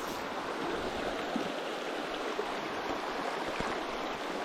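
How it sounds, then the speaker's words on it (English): Creek water on a brook trout stream rushes in a steady, broad, even wash, close by and unbroken, with no voices over it. "I don't mind this creek, honestly"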